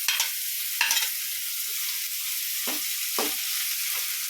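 Onions frying with crushed ginger and garlic make a continuous bright sizzle, close and steady, broken by a few brief scrapes of a stirring utensil against the pan, with no voices.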